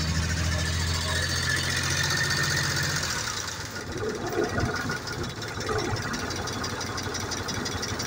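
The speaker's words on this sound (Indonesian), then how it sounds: "saatnya kita mencoba menyalakan mesin" A Daihatsu Hijet 1000 van engine running on LPG idles steadily with a low, even rumble, starting louder at first and then settling into a rougher, knocking running sound.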